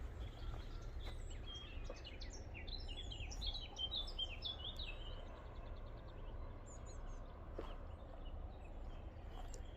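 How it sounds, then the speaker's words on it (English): Birds call faintly in Bayhurst Woods, Harefield, around 9 a.m. on a June morning: a scatter of distant chirps and calls over a steady low outdoor rumble, without a clearly picked-out cuckoo. "I'm hearing the cuckoos now"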